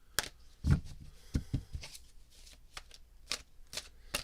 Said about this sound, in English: So, gonna do a cleansing shuffle here.